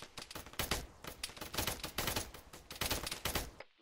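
Rapid, overlapping gunfire from Arma 3, a military shooter, as a squad lays down cover fire: dense bursts of automatic rifle and machine-gun shots crackle in a sustained fusillade, loud and close, then stop abruptly at the end.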